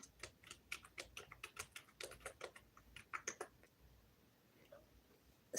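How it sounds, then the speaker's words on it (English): Fast bursts of clicking keystrokes on a computer keyboard as a question is typed, close and fairly quiet, pausing briefly before a final few taps. "I'm gonna type in the question to see."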